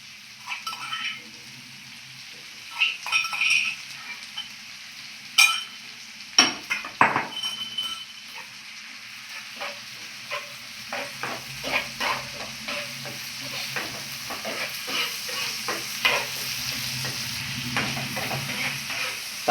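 Tomato paste fries in hot oil while being stirred, a steady close sizzle broken by scraping spoon strokes and occasional clinks against the pan, continuing without speech.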